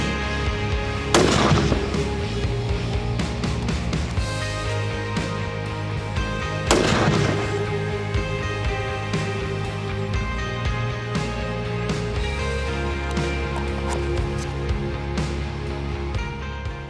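Two separate rifle shots, spaced several seconds apart, crack loudly during scope zeroing, each leaving a lingering echo over a continuous low background, with no voices.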